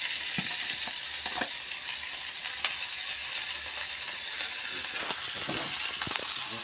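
Garlic, chilli and curry leaves fry in hot oil for a Sri Lankan fish dish, giving a steady, close crackling sizzle with scattered pops throughout and no talking.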